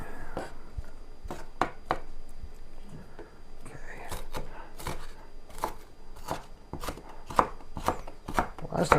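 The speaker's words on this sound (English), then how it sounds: "when I'm chopping the onions" A knife chops onions on a board in quick, uneven bursts of sharp close taps, with a quiet voice murmuring underneath.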